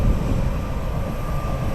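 British Airways Embraer jet heading out of an airport, a brief, steady broadband engine roar at moderate distance with no voices.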